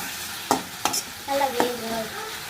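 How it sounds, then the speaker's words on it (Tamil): Minced chicken fries in a little oil and is stirred around the pan, with a few sharp scraping strokes over a steady soft sizzle, close and alone without talk. "கொஞ்சமாக எண்ணெய் ஊற்றி இந்த மாதிரி வதக்கணும் இந்த சிக்கனை"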